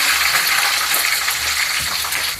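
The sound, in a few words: curry leaves and whole garlic frying in oil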